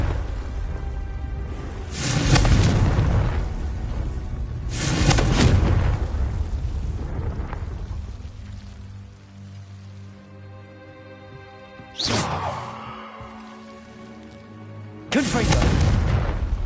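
Repeated Confringo explosive spell blasts in Hogwarts Legacy, four loud booming bursts spaced a few seconds apart, each with a rumbling tail over a sustained musical background.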